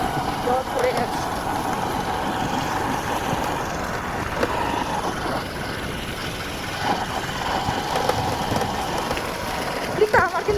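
Steady morning rain falls outdoors in a waterlogged area, a dense continuous hiss with occasional faint thuds and rustles, no voices.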